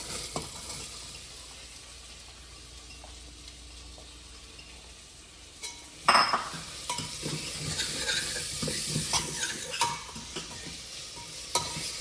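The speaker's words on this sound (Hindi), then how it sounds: "प्याज हमारे भुन गए हैं।" Onions frying slowly on low heat in a pan for a potato, peas and carrot curry: quiet steady sizzle at first, then louder scraping stirs and clinks from about the midpoint, with no talk.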